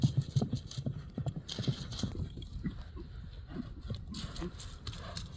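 A chocolate-coloured horse gallops on open ground, its hoofbeats thudding in a quick irregular rhythm at moderate distance while someone talks over them.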